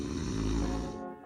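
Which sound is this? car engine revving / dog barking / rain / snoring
snoring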